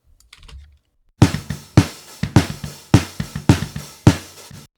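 A snare drum recorded through its own close mic, with kick drum bleeding in, plays a steady groove of about a dozen sharp, close hits, some accented, in an otherwise quiet room with no voices.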